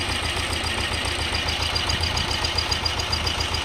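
A T-25 tractor engine runs steadily while disking a field, a close, loud diesel chugging with an even rapid beat that continues throughout without voices.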